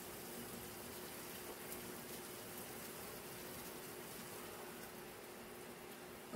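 A pot of water kept at a low simmer for poaching eggs gives off a steady, faint, even bubbling hiss that carries on without change.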